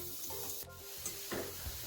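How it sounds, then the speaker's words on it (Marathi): Chopped onion goes into a pre-heated kadhai for a cowpea usal, giving a brief, close sizzle and frying crackle, along with stirring scrapes. "कढई मी आधीच तापत ठेवली होती। आता कांदा घालून घेऊ।"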